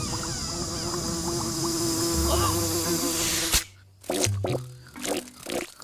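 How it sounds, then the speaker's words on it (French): Cartoon fly buzzing steadily and fairly loud for about three and a half seconds, with a thin whine over a low hum and sound effects, then cut off abruptly and followed by scattered short cartoon noises. "Une petite mouche de rien du tout, une mini-mouche"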